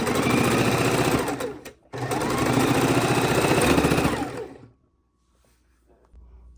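A sewing machine stitches quilt border fabric strips together in two fast continuous bursts separated by a brief pause, then stops, leaving near silence.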